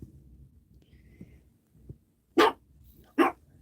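A dog barks twice, loud and sharp, somewhere in a quiet room after a few faint, low thumps.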